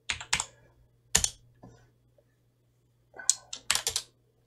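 Keys clatter on a computer keyboard in short bursts of a few quick taps separated by pauses, close and fairly quiet, with a faint steady hum beneath.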